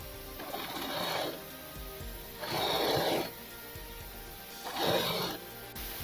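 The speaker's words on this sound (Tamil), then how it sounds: "ஓரத்தில் தையல் போடுவோம்." Three short bursts of a sewing machine stitching lace onto the edge of a baby dress, each separated by a quiet pause, heard up close.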